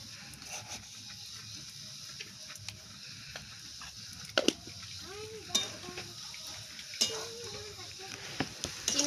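Carrot halwa gets stirred in a pan after sugar is added, soft scraping and occasional spoon clinks against metal over a faint low sizzle, quiet and close with irregular pauses.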